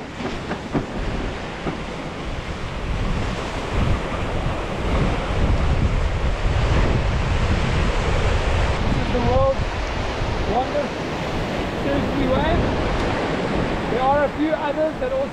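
Ocean waves breaking into white water beside a rock at a surf spot, a steady loud roar of surf and churning water with gusty wind buffeting the microphone throughout.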